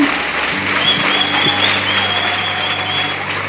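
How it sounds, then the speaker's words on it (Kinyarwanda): Steady applause from a church congregation, sustained and fairly loud throughout, with a low musical hum underneath. "Mureke tubakomera amashyi menshi"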